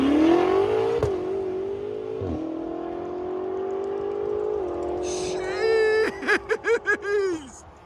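A 2020 BMW M8 Competition making over 800 hp, fitted with downpipes and Flowmaster Outlaw exhaust, accelerates hard, its engine note rising through several gears before a rapid series of sharp upshift pops and revs near the end.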